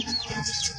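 Chickens cluck softly at a small backyard egg-laying flock, short overlapping calls at moderate distance with low farmyard background.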